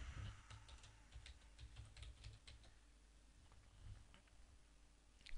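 Keys clatter on a computer keyboard in a quick run of soft, close taps as a label is typed into a Microsoft Access form, ending with a louder click.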